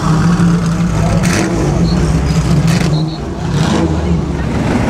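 A Ferrari racing car of the Marzotto brothers runs at the Mille Miglia, its engine a loud, steady rumble nearby, with a voice speaking over it.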